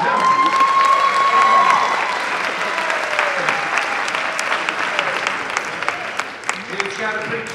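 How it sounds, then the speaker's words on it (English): A jazz festival audience applauds a featured soloist with loud, sustained clapping and a few cheers, a lingering tone from the band fading underneath as the clapping gradually settles toward the end. "Give a round of applause for him."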